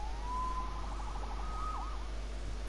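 A police siren wails in the Spider-Man video game, a single rising tone that breaks into a fast warbling yelp, moderately distant over a low steady hum.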